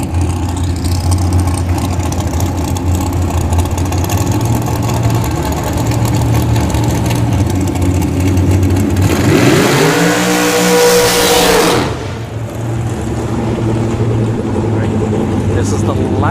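Drag racing car in Super Pro eliminations at an NHRA points bracket finale at Bradenton Motorsports Park, idling engines rumbling under talk before one car revs and launches hard, its engine sweeping up loudly then cutting off.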